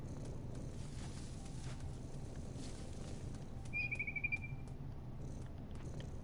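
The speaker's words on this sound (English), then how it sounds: "Where are you, bird?" A small bird in the video game What Remains of Edith Finch gives a single brief high chirp trill over a low ambient hum, faint and alone.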